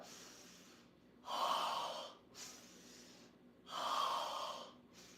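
Two deep, loud breaths during a full-body flexibility stretching session, each a long airy inhale-exhale swell separated by quieter pauses, close and clear with no talking.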